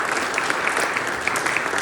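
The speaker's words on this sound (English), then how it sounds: "we should all give ourselves a round of applause" An audience applauding at a talk on inclusion, a dense steady patter of many hands clapping together, evenly sustained across the moment, with no voices over it.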